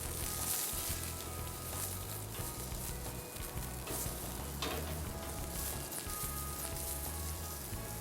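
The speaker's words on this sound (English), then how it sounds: "you can always put a little olive oil on the steaks to raise the actual flame, get them nice and charred" Bacon-wrapped filet mignon steaks sizzling and charring over an outdoor grill flame with olive oil, a steady, close crackling hiss that continues unbroken throughout.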